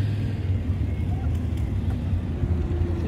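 A Triumph Stag on a sunny drive through North Yorkshire, its engine and road noise a steady low rumble heard from inside the moving car, continuous and fairly loud.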